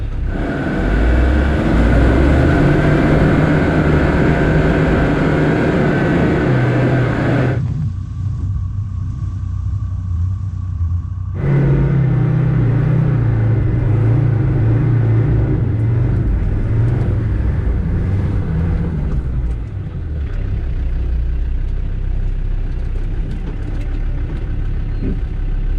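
An off-road overlanding vehicle drives a rough track in Norway, its deep engine rumble rising and falling as throttle changes, with a sudden drop in noise partway through before it picks up speed again.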